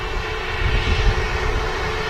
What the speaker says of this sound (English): Let's have a look at this brand new aircraft. The A320neo,